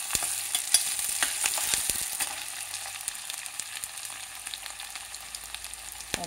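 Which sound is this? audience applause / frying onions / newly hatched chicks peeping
frying onions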